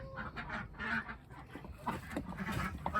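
Geese honking and calling repeatedly at close range, a confused flock being chased into their house at bedtime, with overlapping loud honks throughout.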